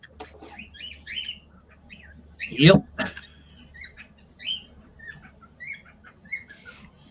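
A pet bird chirps indoors, giving a scatter of small, high tweets and short squeaks across the stretch, faint to moderate and close by, with a brief spoken word near the middle and low room hum underneath.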